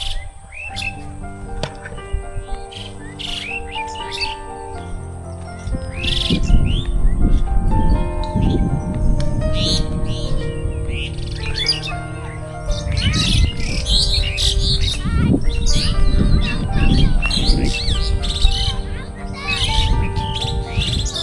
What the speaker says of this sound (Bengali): একবার তোমরা পাখির আওয়াজ শোনো